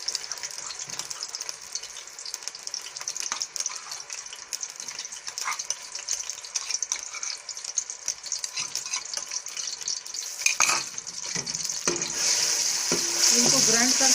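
Ground chonge (Caralluma fimbriata) fries on low heat in a pan with a steady close sizzle and occasional stirring scrapes, growing louder toward the end, with no talk.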